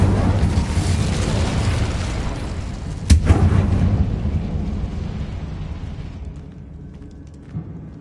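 Incendio fire spell cast in the Hogwarts Legacy video game, a sharp booming burst standing out from a dense low rumble and then slowly fading away.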